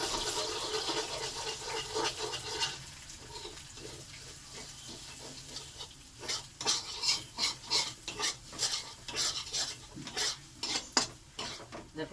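Egg is scrambled in a pan beside onions, a spatula scraping and tapping in a fast uneven rhythm over a soft background sizzle, close and fairly quiet, with no talking.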